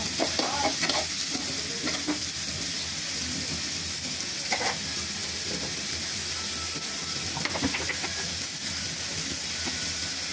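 A generous heap of sliced onions fries in a pan for beef curry, giving a steady close sizzle throughout, with occasional spatula scrapes and stirs rising above it and no talking.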